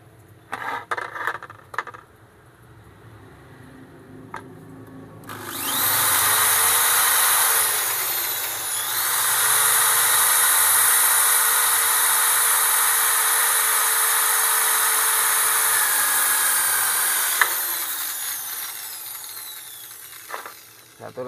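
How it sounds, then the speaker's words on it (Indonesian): A power drill bores into a metal jet nozzle part for a 2-inch well jet pump, spinning up to a loud, steady high whine that holds for about twelve seconds before stopping, with scattered knocks before and after. "Sekarang kita ngebor dulu."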